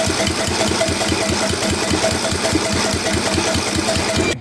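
An Ariens/Husqvarna garden tractor engine cranks over steadily with a fast, even rhythmic chugging, loud and close, continuing unbroken for several seconds before cutting off abruptly.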